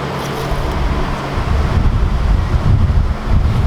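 Wind gusts steadily buffet the microphone outdoors on a hunting trip, a constant loud roar that swells stronger after the first second and a half.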